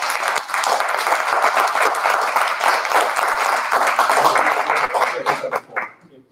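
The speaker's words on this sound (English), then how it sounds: "a round of applause" Audience applause follows a campus talk on cybersecurity careers. The clapping is close and energetic, swells for several seconds, then thins out and fades.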